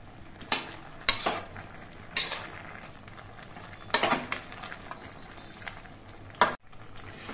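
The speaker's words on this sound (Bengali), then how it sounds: "এবার নেড়ে চেড়ে হলুদগুলো মিশিয়ে নিতে হবে" A spoon scrapes and clanks in a pan while turmeric powder and slit green chilies are stirred in, giving sharp, separate metallic knocks at irregular intervals over a faint low background.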